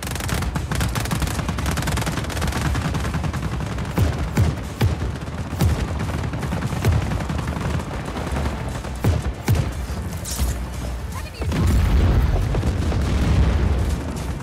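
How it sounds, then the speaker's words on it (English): Constant heavy gunfire and booming explosions in the video game Just Cause 4, dense and loud throughout, with a brief lull and then a louder surge near the end. "So many explosions."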